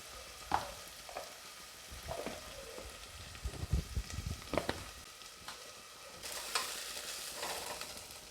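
Sautéed onion with garlic, ginger and chili paste sizzling in a pan for mixed dal khichdi, stirred with scattered scraping clicks over a soft, steady fry.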